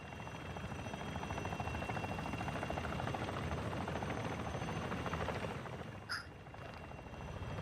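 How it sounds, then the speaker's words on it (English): Enemy attack helicopter approaching in the video game DMZ, a constant rapid rotor thump and whine that holds steady throughout, with a brief sharp electronic blip near the end. "Be advised, the enemy attack helo is approaching your location."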